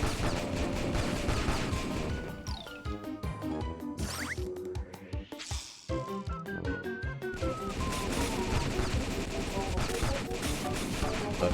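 Machine gun fire from a tower defense video game, with bursts of rapid rattling shots over game music and effects, loud and continuous, with a short break in the middle.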